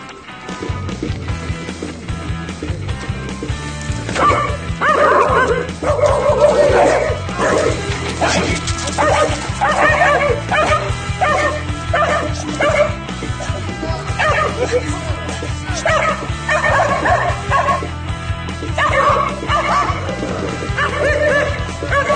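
Dogs bark, yip and whimper in a leash reactivity situation while out on a walk, with bursts of repeated barking from about four seconds on, mixed with rumbling background noise and indistinct talk.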